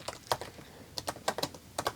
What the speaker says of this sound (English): We have some sticky keyboard right here